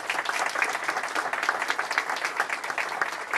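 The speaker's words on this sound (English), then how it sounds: "Please join me in a round of applause" Steady applause from an audience at a school award presentation, dense continuous clapping that holds at an even level without pause for the full length.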